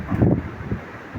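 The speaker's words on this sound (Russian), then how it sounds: "сегодня уже мороз и штормовой ветер" Stormy winter wind in frost buffets the microphone in short, low, rumbling gusts, close and rough, with no speech.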